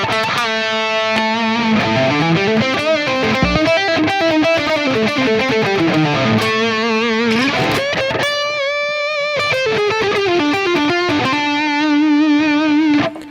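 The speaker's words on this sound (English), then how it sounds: "And that's the distortion neck pickup." Gibson SG electric guitar played through a Duncan distortion neck pickup, a thick overdriven tone with sustained bends, slides and held notes filling the whole stretch at steady loudness, with no voices.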